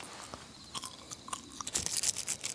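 Someone chewing a chewable toothbrush tablet, with a few close, crisp crunches and moist biting sounds spaced irregularly across a couple of seconds, no talking.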